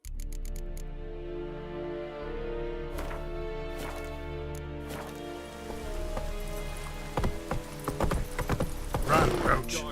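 Roach, the horse in The Witcher 3, galloping with a steady rhythm of close hoofbeats over a sustained tonal background, the hooves growing louder and busier toward the end.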